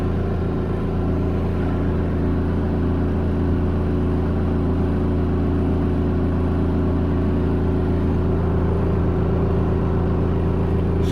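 A portable washing machine spins with a steady motor hum and low mechanical whir, holding an even, continuous drone from start to finish with no voices.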